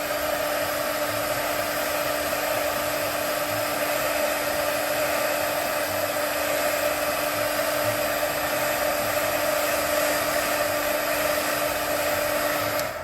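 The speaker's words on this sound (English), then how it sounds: "I'm gonna go ahead and heat set it anyway, just because I already have the ink on it" A craft heat tool heat-sets embossing powder on stamped ink, giving a loud, constant close-up whir and rushing air with a steady hum, running unbroken throughout.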